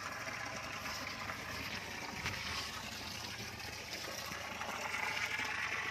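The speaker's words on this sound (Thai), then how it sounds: "แดดโอเควันนี้น้ำไหลดีมาก" Water pours steadily from the outlet of a solar pump running on three 750-watt mono panels, a continuous close rushing splash that holds even for the whole stretch with no talk over it.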